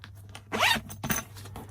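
A zip on a compartment of a Thule Chasm Gear Hauler 55L bag is pulled open in two quick, close rasping strokes, one slightly longer than the other, with no talking.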